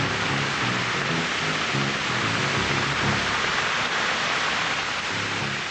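Heavy pouring rain falls as a steady, dense hiss that stays constant throughout, with a soft musical score underneath and no voices.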